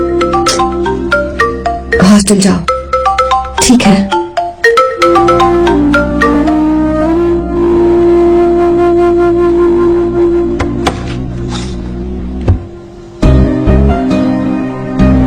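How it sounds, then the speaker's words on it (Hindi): A phone ringtone plays loudly as a steady melodic tune, broken by brief pauses, with short spoken lines from people nearby in a Hindi-dubbed South Indian horror comedy film scene. "फोन तो उठा ले।"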